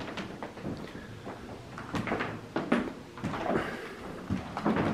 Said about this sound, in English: This is one squeaky floor.